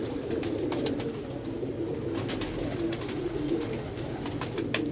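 Pigeon cooing close by, repeated low throaty coos in a steady rhythm over a constant outdoor background hum, with faint clicks scattered through.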